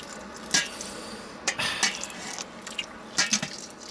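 Water being added to a foamy pasta beer mash while it is stirred, with wet sloshing and squelching bursts at irregular intervals and faint clinks against the pot, fairly close, no speech.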